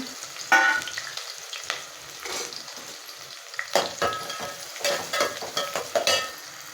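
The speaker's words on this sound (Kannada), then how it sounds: "ಎಣ್ಣೆ ಬಿಸಿಯಾಗಿದೆ ನಾವು ಈರುಳ್ಳಿ ಕಟ್ ಮಾಡ್ಕೊಂಡಿದ್ವಲ್ಲ ಮೊದಲಿಗೆ ಈರುಳ್ಳಿ ಹಾಕೋಣ" Chopped onions dropped into hot oil for crab masala, frying with a steady broadband sizzle broken by several sharper bursts and scraping stirs, close and fairly loud with no talking.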